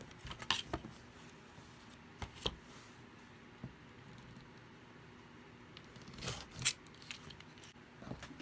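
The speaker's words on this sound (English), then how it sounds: "If you prefer to cut them off with your scissors, you can do that." Scissors snip quilt fabric in a few faint, scattered cuts with long quiet gaps between them, soft and close, with no talking.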